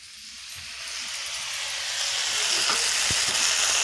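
Ground radhuni, ginger and green chilli paste sizzles in a hot pan, a steady frying hiss that swells louder over a few seconds, with a couple of faint utensil clinks near the end.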